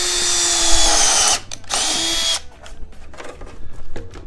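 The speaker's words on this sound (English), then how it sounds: "Drill the holes in it." A power drill whines at high speed in two bursts, drilling holes in 3 or 4 mm thin plywood, stopping and starting, followed by rattling and handling noises.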